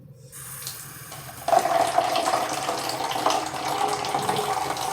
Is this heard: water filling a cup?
yes